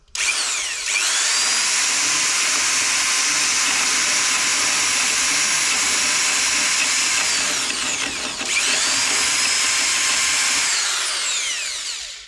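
A power sander scratches up a boat hull surface before taping and fiberglassing. It spins up, grinds loudly and steadily, winds down briefly, then runs again before tapering off at the end.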